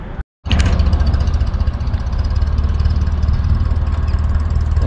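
Engine of a Ferguson tractor fitted with a front end loader, idling at a tractor show: a loud, steady, low chugging rumble with a fast even beat, close by, starting after a brief silent gap, with no talk.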